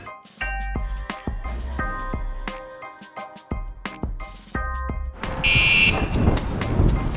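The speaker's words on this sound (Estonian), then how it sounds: "Tehke piiks." A short, sharp electronic beep rings out loud and steady for about half a second near the end, over upbeat background music with a thumping beat.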